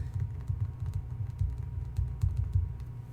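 Close computer-keyboard typing as an annotation on a To Kill a Mockingbird article is entered, a steady run of quick keystrokes with no talk.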